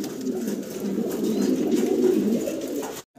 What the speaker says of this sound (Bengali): ব্ল্যাক কালারের টিউলিপ কবুতর দেখতে পারতেছি।